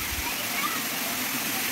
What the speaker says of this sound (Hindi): मोटर ही है मोटर है फ्लो तो देखो पानी का फुल फ्लो है